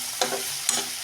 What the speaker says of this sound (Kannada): ಸ್ವಲ್ಪ ಹಸಿ ವಾಸನೆ ಹೋಗೋವರೆಗೂ ಇದನ್ನು ಹುರಿಯೋಣ